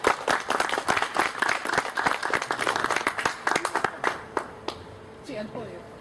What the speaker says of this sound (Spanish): a quien le tributamos un voto de aplauso